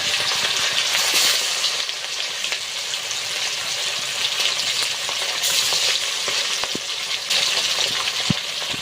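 Large rupchanda fish pieces fry in hot oil in a kadai, giving a steady, close, dense sizzle with occasional sharp crackles and spits throughout, no voices.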